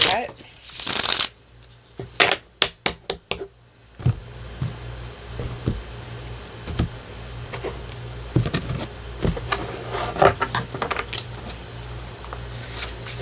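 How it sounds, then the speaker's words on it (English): Tarot cards are shuffled near the listener: a run of sharp separate card snaps and flicks at first, then softer continuous sliding and patter as the deck is worked. "One more shuffle at the cut."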